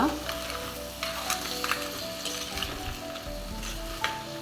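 Crab pieces sizzle in a hot pan for Kundapura-style crab sukka, with a continuous frying hiss broken by scraping stirs and the knock of a spatula against the pan.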